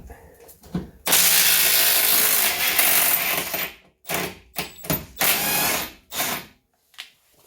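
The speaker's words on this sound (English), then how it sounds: "I'm going to use my impact wrench in order to" Impact wrench on a 21mm control arm bolt of a Renault Trafic van, firing in a loud sustained burst, then several short hammering bursts separated by silent gaps.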